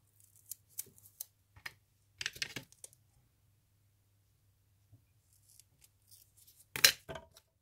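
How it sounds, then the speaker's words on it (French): Scissors clogged with glue snipping during a craft project: a few sparse, quiet cuts and taps, with a louder snip near the end and silence between them. "J'arrive même plus à couper tellement il y a de colle dessus."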